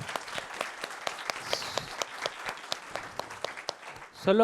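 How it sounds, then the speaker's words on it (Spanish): Scattered applause from the audience at a book presentation at the Guadalajara book fair, distinct individual claps standing out from a softer crowd patter, with a voice breaking in at the very end. "Un fuerte aplauso para Sofía"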